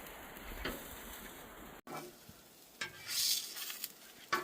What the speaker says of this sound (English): He's cooking Spam on the griddle